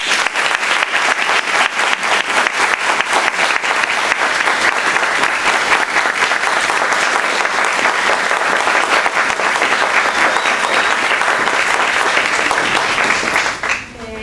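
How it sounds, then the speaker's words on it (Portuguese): A large audience at a panel on institutional violence against Black, quilombola and LGBTI women gives sustained, loud applause, a thick continuous roar of clapping lasting over ten seconds before cutting off sharply. "antes eu queria uma salva de palmas"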